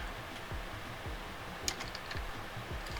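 Keys tapped on a computer keyboard while typing a command during setup of a MicroMiner crypto-mining device, a steady run of soft, close clicks with no talk.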